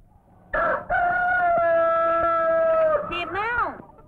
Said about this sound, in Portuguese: Quando o galo cantar